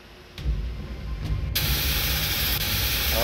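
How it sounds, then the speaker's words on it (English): Steam vents with a broad, steady hiss in a Jurassic Park video game, rising after faint thumps and then swelling louder and sustained to the end. "The steam has been vented."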